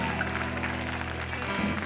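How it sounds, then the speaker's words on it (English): Comedy barn audience applause: steady clapping runs throughout, close and fairly loud, mixed with crowd noise. "Give that man a round of applause."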